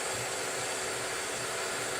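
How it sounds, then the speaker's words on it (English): A small portable hair dryer blows steadily at close range, a constant loud whooshing hiss with a low motor hum, no voices. "we're going to go ahead and dry it with my little portable hair dryer"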